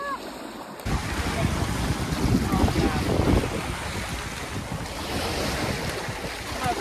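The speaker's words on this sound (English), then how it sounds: "It is just completely getting like windy and wicked again out here" Strong wind buffets the microphone while waves slap around a canoe on the Yukon River during a storm, a loud, continuous roar with faint voices underneath.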